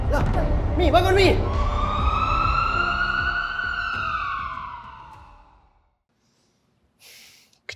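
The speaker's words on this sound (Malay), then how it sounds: "Ambulans." An ambulance siren wails in a long, steady rising-and-falling tone that gradually fades away into the distance. Frantic voices and breathing overlap it at the start, then a brief scuffle follows after silence.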